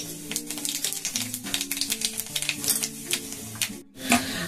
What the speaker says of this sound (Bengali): একটুখানি তেল দিয়ে দিলাম, দিয়ে দেবো একটু কালো জিরে।